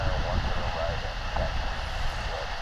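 Boeing 777-223ER airliner at DFW International Airport, a steady broadband engine roar that holds evenly throughout, with faint talk mixed underneath.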